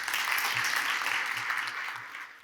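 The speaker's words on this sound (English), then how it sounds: "A round of applause, if you please." An audience at an insurance industry conference applauds, a dense, even wash of clapping from a sizable crowd that holds steady and then begins to fade, with no talking over it.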